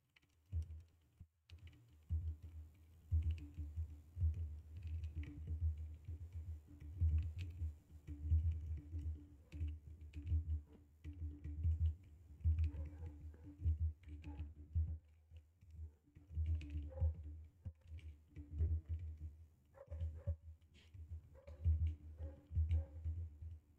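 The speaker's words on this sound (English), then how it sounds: "just a bit of an example on how it looks like when I'm typing" Steady typing on a Harite v2 directional keyboard, with continuous close key clicks and thocks in an uneven rapid rhythm throughout and no talking.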